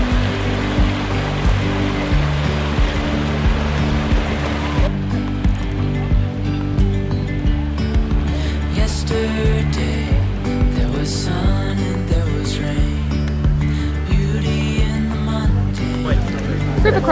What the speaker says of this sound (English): River crossing done.